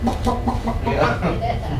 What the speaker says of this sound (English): But you go to a farm and you see a chicken